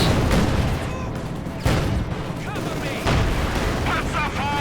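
Anti-tank guns fire in a Company of Heroes 2 match as sharp booms and cracks scattered over steady battle noise, with a commentator talking throughout.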